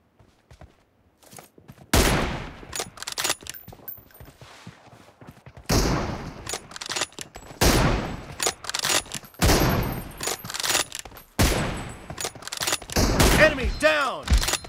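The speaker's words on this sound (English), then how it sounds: "Nice shot! Reloading!" Gunfire in PUBG, scattered sharp shots and short bursts separated by brief pauses, loud and close, with voices talking briefly between them.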